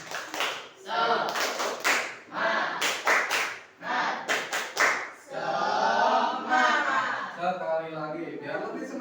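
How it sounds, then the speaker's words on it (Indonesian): Indonesian classroom students doing the tepuk semangat rhythmic clapping chant: bursts of sharp claps in a patterned rhythm with a group voice chanting, followed by a teacher speaking. "tepuk semangat."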